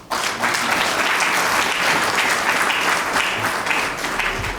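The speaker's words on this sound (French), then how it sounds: "Une vision applaudie par tous" An audience at a first-listing ceremony for the Loterie Nationale du Bénin on the BRVM claps in a dense, steady round of applause, loud and close throughout, with no talk over it.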